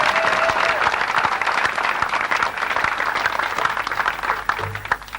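A crowd at a 2003 memorial gathering in Littleport gives a round of applause, heard as loud, dense clapping with sharp individual claps standing out, easing off toward the end.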